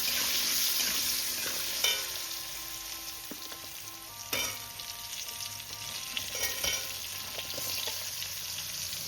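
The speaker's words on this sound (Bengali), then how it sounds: "তা পেঁপেটা আর আলুটা একটু ভেজে তারপরে কুমড়োটা দেবো।" Papaya and potato pieces frying together in a pan sizzle steadily while a utensil stirs them, with a few sharp scrapes and clinks against the pan and no one talking.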